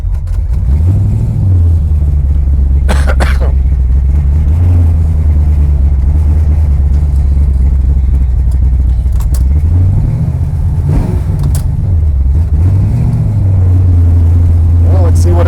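A 1968 Dodge Dart GTS pro-street V8 idling a little high just after its first start of the season, a loud steady low rumble with slight rises and dips, while a person talks over it.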